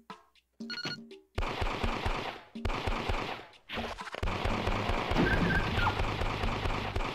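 Bursts of heavy blasts and rapid gunfire erupt in a loud, chaotic Elevator Action Returns arcade game soundscape, with a rumbling explosion swelling toward the end.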